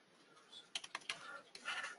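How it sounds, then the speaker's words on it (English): Quick, faint taps on a computer keyboard, a short irregular run of clicks with brief pauses, heard close but quiet with no talking. "let's just say I was typing in here"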